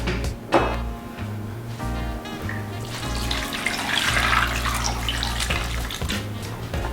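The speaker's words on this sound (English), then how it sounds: "And now I'm going to put some water." Water pours steadily into a pot of celeriac fries for several seconds, a continuous splashing rush that deepens slightly as it fills.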